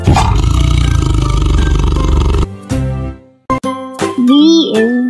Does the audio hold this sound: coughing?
no